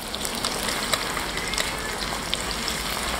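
Doubanjiang frying in hot oil in a clay pot with Sichuan peppercorns, scallion, ginger and garlic, giving a steady close crackling sizzle with small pops throughout and no talking.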